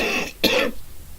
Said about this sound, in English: I didn't mean to cough, but when you got a cough, you know it's there.